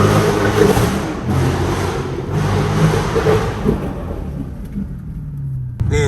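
A Dodge SRT 392 with a newly fitted loud exhaust accelerates hard in first gear, giving a deep, booming rumble that swells for several seconds and then fades away.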